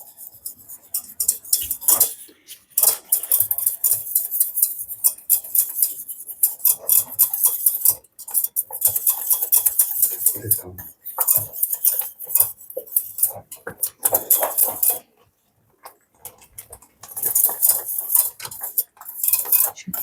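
A whisk beats a dessert mixture for a puff pastry treat in a bowl, giving rapid metallic clinks and scrapes in steady bursts with short pauses, close and fairly loud, with no talking.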